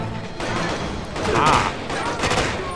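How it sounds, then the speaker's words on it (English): Gunfire in the video game Quantum of Solace during an airport shootout: a fast fusillade of shots crackling in bursts, swelling louder mid-way, with a voice talking over parts of it. "I know someone's shooting me"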